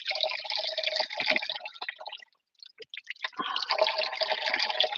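Water spills over a small built stone overflow weir among granite stones, a steady close trickling and splashing that briefly drops away before resuming.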